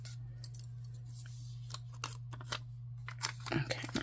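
Scissors snip through planner paper at a desk, a few short crisp cuts and rustles clustered toward the end over a steady low hum, with a voice talking quietly.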